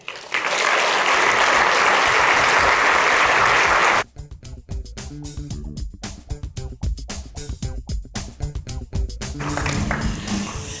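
An audience at the IET President's Address 2025 claps loudly and steadily to welcome a speaker onto the stage. The applause then breaks into thinner scattered claps before fading under hall ambience.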